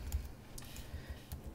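Quiet typing on a computer keyboard: a few soft, scattered key taps and clicks in a near-silent room.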